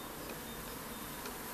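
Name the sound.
small honeybee swarm buzzing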